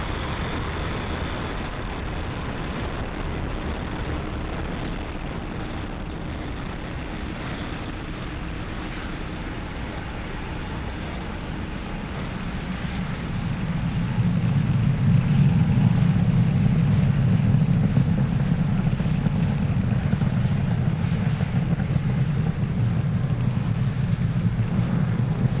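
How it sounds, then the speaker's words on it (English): Falcon 9 rocket lifting off on a Starlink launch, a steady broad rumble that swells into a louder, deeper roar midway and holds, with no voices. "and liftoff of Falcon 9"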